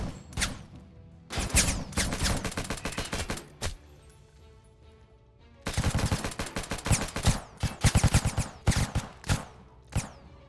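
Rapid automatic gunfire in a video game crackles out in dense, loud bursts, with a short quiet gap between the first volleys and a longer sustained stretch of shooting later.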